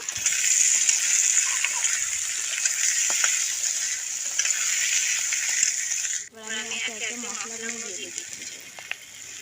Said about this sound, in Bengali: আমি এতে টমেটো আর কাঁচা লঙ্কাগুলো দিয়ে একটু ভালো করে নেড়ে চেড়ে নেবো